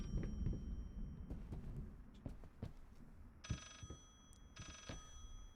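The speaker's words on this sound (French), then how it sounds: "Si ça sonne encore, on a peut-être un vrai téléphone après." An old telephone ringing in the horror game Layers of Fear sounds in two bursts of bell-like trills, each about a second long, over a low, dark ambient rumble with scattered knocks.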